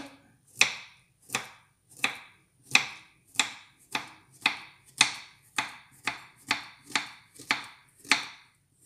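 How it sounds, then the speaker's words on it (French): A knife slices a banana into thin pieces for an energy muesli, about thirteen crisp chops against a board in an even rhythm, close and clear with no voices. "vous allez prendre votre banane que vous allez couper en petites lamelles"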